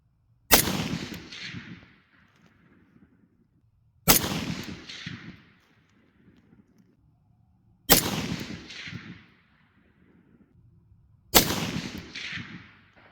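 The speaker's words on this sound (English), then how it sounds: "the first 5 rounds I fired out of my M1A here in probably 5 years" Four loud, evenly spaced shots from a Springfield Armory M1A National Match rifle firing Black Hills 168-grain Sierra match hollow points in the prone position, each sharp crack followed by a short decaying echo.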